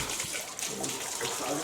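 Spring water pours steadily at Donnington Brewery, a soft continuous splashing stream heard close by, with voices faintly underneath.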